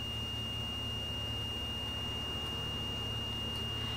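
A dilatometer probe's buzzer sounds as soil presses its membrane against the blade, a steady high electronic tone running unbroken and fairly faint over a low, rumbling background.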